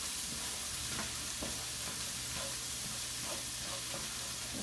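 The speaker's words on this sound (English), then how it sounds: "Kind of stir that corn up." Corn kernels seasoned with a teaspoon of cumin are stirred in a frying pan, giving a steady soft sizzle with scattered scraping taps of a utensil against the pan throughout.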